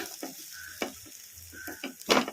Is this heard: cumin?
yes